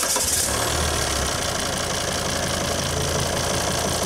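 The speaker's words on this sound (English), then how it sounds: "If you start the vehicle for me" A common rail diesel vehicle engine idles close by with a steady, loud rumble and a faint clattering knock that stays even and constant throughout, with no talking.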